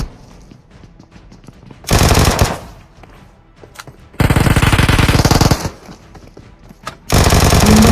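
Automatic gunfire in the PUBG Mobile battle royale game, three loud sustained bursts of rapid shots with quieter distant pops between them and no voices.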